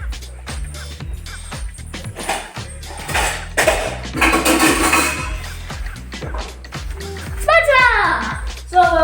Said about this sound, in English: Let me get a spatula.